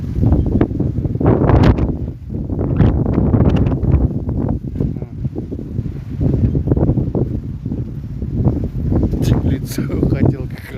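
Strong wind gusting near Kenzhekol village outside Pavlodar, Kazakhstan, roaring and buffeting loudly in uneven surges, with a voice speaking over parts of it.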